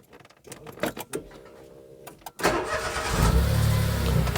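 Smart ForTwo car, suffering a suspected gearbox failure, cranks briefly after some clicks and handling noises, then catches and settles into a steady, close idle.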